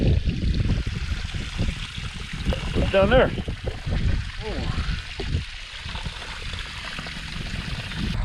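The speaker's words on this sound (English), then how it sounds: "I'm emptying the water trough and the nurse tank here" Water drains and trickles out of a cattle water trough and nurse tank, a steady gurgling stream running outdoors while a person speaks over it.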